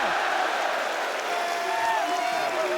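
Esports arena crowd at a Six Invitational grand final, a steady, loud roar of many voices sustained throughout, with a commentator talking over it.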